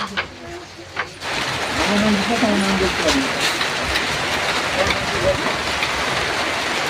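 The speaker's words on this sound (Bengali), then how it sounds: "দেখতে দেখতে কি জোরে বৃষ্টি চলে আসলো" Heavy rain pours down in a steady, dense roar that swells in after a quieter opening, with people talking faintly beneath it.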